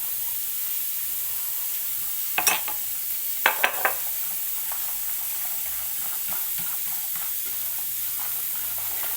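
Ingredients, including a couple of spoonfuls of coconut, stirred in a pot over a soft continuous sizzle, with a few sharp scraping spoon strokes near the start, close and without talk.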